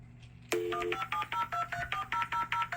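Dial-up internet modem connecting: a dial tone gives way to a quick string of rhythmic beeping tones pulsing about five times per second, loud and close with no talking.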